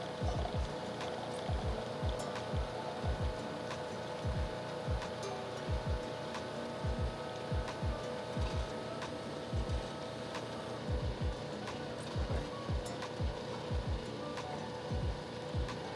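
A Keurig K4500 capsule coffee machine brews with milk, giving a steady mechanical hum under rapid, irregular pumping pulses that continue throughout.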